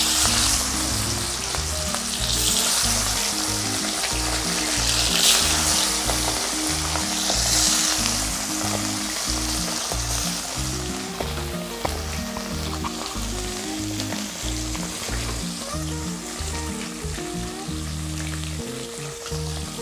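Fish frying in hot oil for a curry with green banana and potato, a steady, dense sizzle and crackle that holds close and loud throughout, with no talking.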